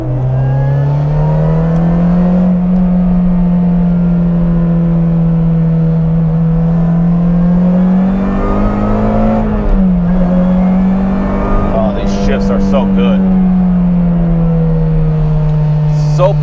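A racing video game car engine drones steadily at high revs, pitch rising and dipping slightly as it shifts, loud and continuous with a brief tyre-squeal-like chirp near the end.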